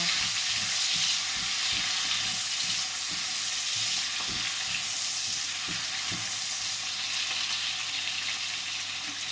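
Chopped onions fry in a hot pan with a steady, bright sizzle, near and continuous, with soft stirring knocks and scrapes underneath.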